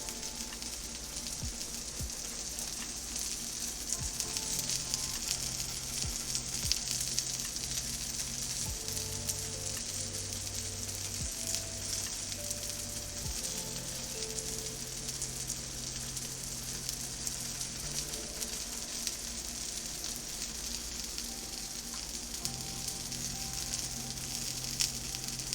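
A cod fillet sears in a pan for a lemon butter dish, giving a steady, even sizzle and crackle that holds throughout, with no talking.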